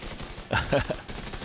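Gunfire from a weapon in The Division 2, a short burst of several rapid shots clustered in the middle of the clip, moderately loud over quieter game ambience.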